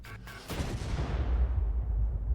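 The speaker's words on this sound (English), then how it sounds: "A few minutes later, Hitler leans over the table to further discuss war strategy, and the bomb detonates." A bomb detonates beside a conference table in a single deep boom that rolls into a long, fading rumble, fairly distant and muffled.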